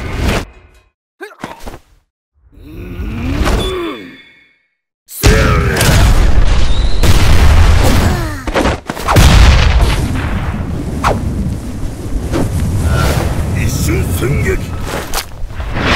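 A League of Legends nexus exploding, with heavy booming blasts and rumbling debris that follow sparse earlier sounds, continuing loud and dense, while a voice speaks at points.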